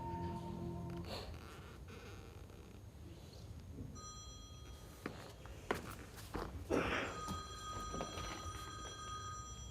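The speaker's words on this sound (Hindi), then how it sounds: "टेलीफोन देती हूँ, हरीश भाई का फोन है।" An old-style telephone bell rings with metallic tones amid faint shuffling and footsteps, fairly close, no speech.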